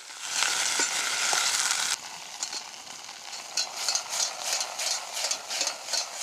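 Stew beef browns in a pot over an open campfire. A loud, dense sizzle cuts off abruptly, then a quieter crackle continues under a series of scraping stirs, heard close with no talking.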